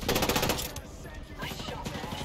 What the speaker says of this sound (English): Sniper lining up a shot. Shit, sniper, he's ready to fire.